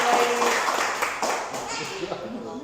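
Studio audience applauding guests at a football-themed show, a steady wash of clapping under host chatter that fades slightly toward the end.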